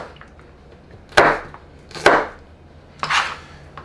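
A knife chopping bell peppers on a cutting board: three distinct sharp chops about a second apart, close and clear with no talking.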